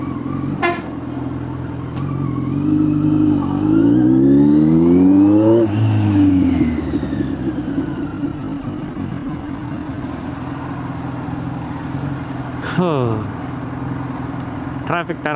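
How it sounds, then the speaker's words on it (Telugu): Busy city street traffic beside a Kawasaki Z900 motorcycle on Church Street, Bangalore, with engines rising and falling, a rush of passing vehicles and several short car horn toots near and far, while a voice talks over it. "ఏందిరా ఈ టైంలో ఎంత ట్రాఫిక్ ఉంది?"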